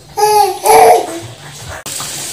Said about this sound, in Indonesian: Suara anak saya kedengaran.